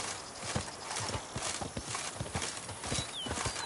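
Horse hooves gallop in a rapid, steady clip-clop rhythm in the video game The Witcher 3, loud and close over a bed of outdoor ambience, with a brief high whistling tone near the end.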